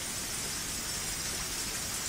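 Heavy torrential rain in the Higurashi video game, a steady dense hiss of downpour that holds even and unbroken throughout, with no voices over it.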